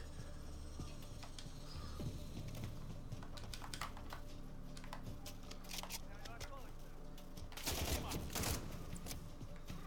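Rapid gunfire crackles in Call of Duty Modern Warfare 3, a dense run of sharp clicks and pops through the whole stretch that swells near the end, with someone talking over it.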